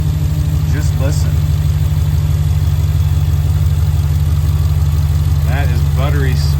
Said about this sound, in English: I always start the engine back up, make sure there are no leaks underneath, and just listen.